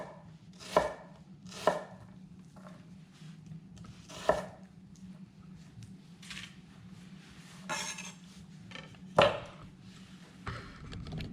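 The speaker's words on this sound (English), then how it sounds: "I'll run my knife straight through, put it back together, and then just go straight down" A knife dices food on a cutting board into a medium dice, sharp close knocks on the board at irregular intervals over a low steady background hum, no talk.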